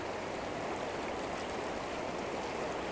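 A river flowing, with a steady, full rushing of water that holds constant throughout, close and moderately loud, with nothing else heard.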